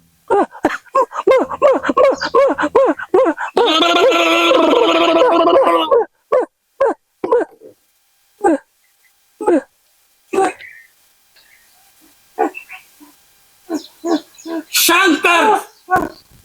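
A dog whimpers and barks in short, loud bursts and yips separated by pauses, with a longer sustained whine partway through; no speech is heard.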